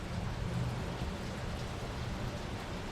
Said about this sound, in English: Nice, slow, steady rain.